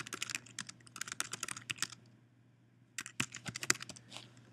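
Rapid clicking on a computer keyboard as MySQL database commands are entered, close and steady in two bursts separated by a short pause, with no talking.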